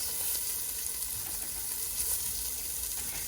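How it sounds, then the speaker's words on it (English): Meatballs searing in a soup pot for caldo de albóndigas give off a steady, moderately faint sizzle and hiss that runs without a break, with no voices. "once our meatballs are seared, we're going to transfer these back out"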